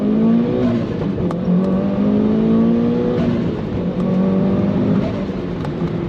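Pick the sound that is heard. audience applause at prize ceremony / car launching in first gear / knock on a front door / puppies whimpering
car launching in first gear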